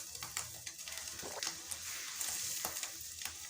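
An egg fried extra crispy in a pan, crackling and sizzling up close with scattered sharp pops and spatters over a continuous hiss.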